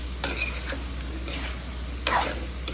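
Eggplant, potato and tomato sautéing together in a pan for a Bengali mixed-vegetable curry with rohu fish: a steady sizzle with a few sharp bursts of stirring and scraping, close and fairly loud.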